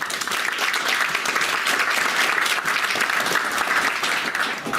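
An audience gives a speaker named Ryan a round of applause at a public talk on data centers in Michigan: dense, even clapping from many hands that holds steady and fills the room, then tapers slightly at the end.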